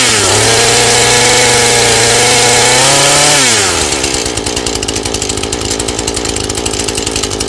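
A Husqvarna 435 chainsaw runs loud and close after starting, its two-stroke engine holding a high steady pitch before dropping and settling into a rougher, lower idle.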